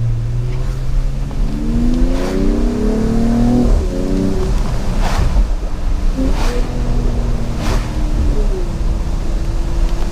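A 2018 Mercedes-Benz E53 AMG engine in Sport Plus mode with exhaust valves open, revving and shifting through gears, rising tones with sharp exhaust pops between, loud and close with a deep throaty note.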